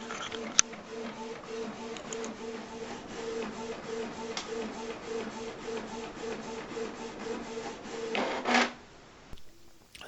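An inkjet printer running low on ink prints onto heat transfer paper with a steady mechanical whirring and rhythmic clicking, a louder clunk near the end as the sheet finishes, then near quiet.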